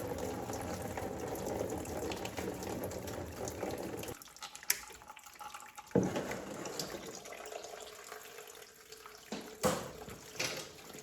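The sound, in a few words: coolant draining from a hose on a Honda 420 engine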